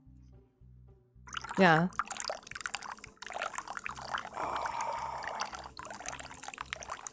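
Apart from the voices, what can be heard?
liquid poured into a bowl near the microphone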